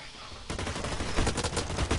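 Rapid automatic gunfire in the shooter game Blacklight: Retribution erupts after a quiet half second, a dense, loud burst of rattling shots continuing to the end.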